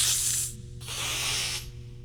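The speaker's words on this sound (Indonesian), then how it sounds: "Mendesis." A cat hisses in two sharp, breathy bursts, close and fairly loud, with a brief gap between them and no voices.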